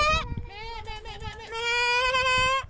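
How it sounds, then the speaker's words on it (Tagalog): Goats on a farm in Dubai bleat close by, with a quick call followed by longer wavering cries that run together over a steady farmyard background. "Mga kambing."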